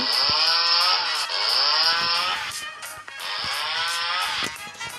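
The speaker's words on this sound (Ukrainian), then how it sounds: "я буду візьму свою бензопилку і буду убирать ялинку" A chainsaw revs and cuts through a fir tree in two long bursts, the engine pitch sagging under load, close and loud with short idle gaps between.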